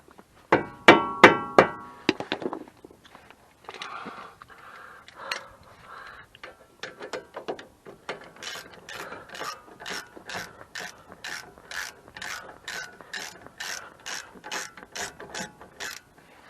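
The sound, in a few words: ratchet loosening a part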